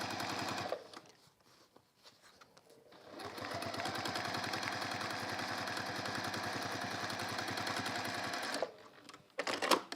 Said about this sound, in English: So I've now top stitched that down very efficiently, very effectively